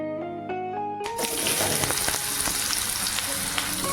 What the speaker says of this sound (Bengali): এবারে দিলাম কুচনো আলু